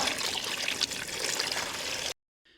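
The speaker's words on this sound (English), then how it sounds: "So just take your time, just pour plenty of water over, so the more that you go in there, the more dirt will come out." Water pours steadily over a K&N air filter during cleaning, making a close, bright splashing trickle for about two seconds before stopping abruptly.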